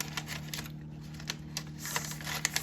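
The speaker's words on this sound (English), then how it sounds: "You take the scissors" Scissors snip through a paper bag for a handmade groundhog puppet, giving quiet, irregular crisp clicks and rustles close by over a steady low hum.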